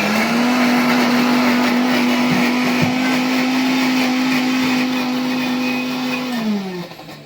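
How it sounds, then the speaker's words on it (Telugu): A large kitchen mixer grinder whirs at a steady high pitch while blending pani puri ingredients with water, loud and close, then winds down and slows near the end. "పెద్ద మిక్సీ పట్టుకొని కొన్ని వాటర్ వేసి మళ్ళీ మిక్సీ పట్టుకోండి"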